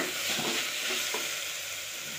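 A masala mixture being sautéed in a pan for chicken curry gives a steady, close sizzle with soft stirring scrapes, no voices over it.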